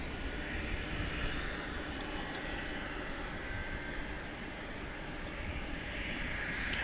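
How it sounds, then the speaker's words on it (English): A McDonnell Douglas MD-11 at DFW International Airport sends a steady, broad jet-engine roar across the field, heard at a distance, continuous and unchanging throughout. "I hear the sound of an MD-11."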